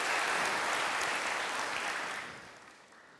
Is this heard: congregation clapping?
yes